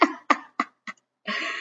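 A reader imitates an old man's chuckling cough with their voice: three or four sharp, close hacking bursts at a quickening rhythm, followed by a longer rasping exhale, heard alone without other speech.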